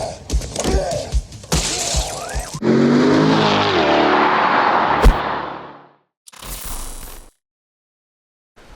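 A car pulls in at the SEMA 2023 show move-in: a few sharp knocks and clunks, then a loud sustained engine and tyre rumble that fades out, followed by a brief muffled burst.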